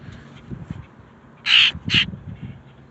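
An agitated crow-like bird gives two loud, harsh caws close by over low background rustling.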